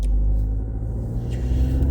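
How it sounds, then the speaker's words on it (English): A Chevy Trax engine cranking on a weak battery on a frigid morning, a steady, close, low droning rumble lasting about two seconds with no voices. "Sounds like the battery's getting weak on the little car"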